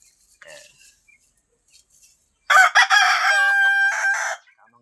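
A rooster crows loudly and close by among young hens, with faint scattered clucks before it, on a small farm where the pullets are raised for breeding with white Leghorns.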